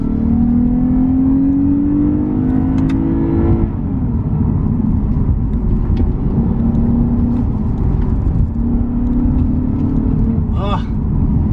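A Lexus IS350 F-Sport's engine revs on a mountain climb, its note rising steadily, dropping, then climbing again, with a voice speaking over it.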